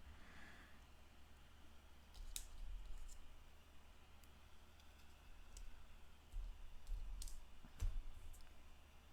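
Faint, sparse snips of scissors cutting small paper accent letters for a scrapbook page, a few isolated clicks over a quiet room background.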